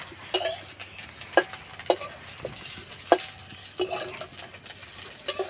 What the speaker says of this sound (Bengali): তো বন্ধুরা ভাজতে কিন্তু বেশি তেল লাগে না, অল্প তেলেই ভাজা হয়ে যায়।